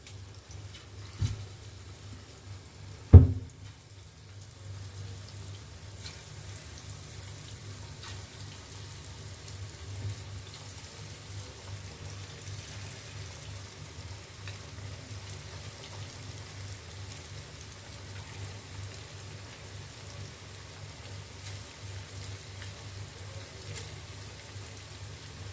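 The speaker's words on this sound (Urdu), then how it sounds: "جی ناظرین، یہ چکن فرائی ہو رہا ہے" Chicken pieces in biryani masala fry in hot oil with a steady, soft, rain-like sizzle throughout, broken by two sharp clunks near the start.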